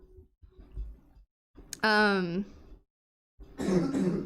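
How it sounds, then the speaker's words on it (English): Muffled talk and a brief voiced sound give way to a harsh, noisy cough near the end, close and fairly loud. "You're making me cough."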